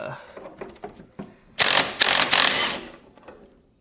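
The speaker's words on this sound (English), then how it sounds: "just using another impact. This is a 3/4, 3/4 impact here, socket." Impact wrench with a 3/4 socket spinning off the front axle nut on a 2014 Polaris Sportsman 570 ATV, faint clicks and rattles at first, then three loud close hammering bursts of about half a second each, with no talk.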